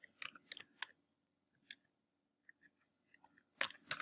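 Keys on a computer keyboard are typed in short, crisp clicking bursts, a few quick clusters separated by pauses, with isolated taps in between, close and fairly quiet, with no talking.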